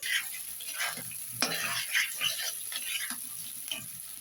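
Spiced eggs frying in a pan, giving a soft, steady sizzle broken by repeated scraping stirs of a spatula, close up but fairly quiet, with no speech.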